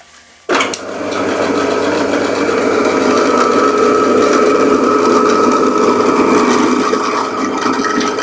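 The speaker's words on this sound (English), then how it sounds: "So over to the drill press." A drill press fitted with a 2.5mm drill bit starts abruptly, then runs at a steady, loud motor hum and whine with a faint rattle, close by and without talk.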